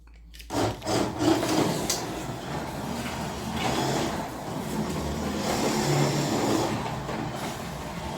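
A Carrera 1:24 BMW M4 slot car running on track with no magnets and standard Carrera tyres, a steady rough whirring hum that swells and fades as the car laps, with no talk.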